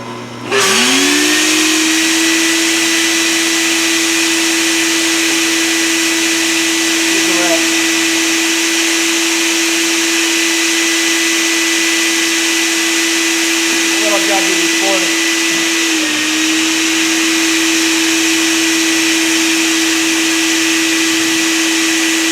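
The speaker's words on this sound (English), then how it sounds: "Got my handy dandy little vacuum cleaner set up" A small handheld vacuum cleaner hums steadily at close range in a motorcycle workshop, its whine holding a constant pitch over a few brief clatters and short dips.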